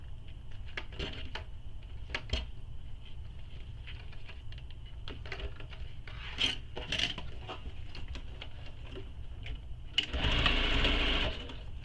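A sewing machine basts the seam of a Becky Bag, running in short bursts separated by small clicks and handling noises, then finishing with a longer, louder run near the end.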